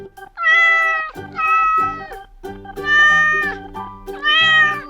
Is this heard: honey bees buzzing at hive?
no